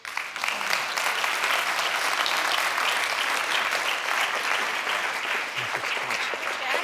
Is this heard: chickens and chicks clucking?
no